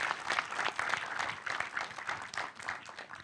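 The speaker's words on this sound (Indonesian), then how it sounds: "Boleh kita tepuk tangan yang paling meriah untuk para panelis kita." An audience applauds panelists at a climate-disaster adaptation discussion, with lively clapping of fairly moderate loudness and irregular bursts continuing throughout.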